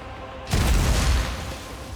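A grenade bursts in the turn-based game Warhammer 40k Rogue Trader, arriving half a second in as one loud, deep boom that rolls out and slowly decays.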